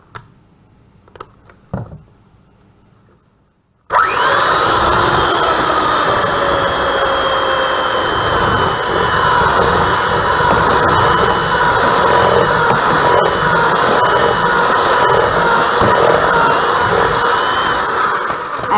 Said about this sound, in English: we are going to just use the hand mixer to mix this together, to cream it together